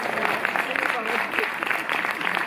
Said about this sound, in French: Vous applaudissez pas les cocktails?